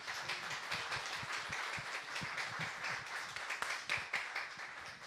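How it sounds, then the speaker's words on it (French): A church congregation at a Sunday worship service applauds to welcome visitors, many distinct hand claps blending into fairly quiet, somewhat distant, steady applause. "On peut vous applaudir, vous accueillir."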